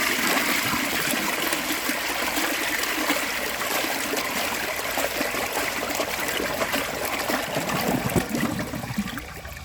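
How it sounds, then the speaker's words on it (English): A Vilbomex Marathon toilet with an overfilled tank flushes in one continuous, powerful rush of water that roars and gurgles steadily for about ten seconds before easing slightly at the end. "because I think the flush would be pretty awesome if it had a little more water."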